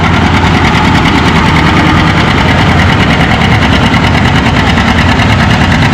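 John Deere 820 tractor pulling a 10,000-pound class on the far track at a tractor pull, its engine running loud and steady with a rough, throbbing mid-range drone and vibration throughout, alone without talk.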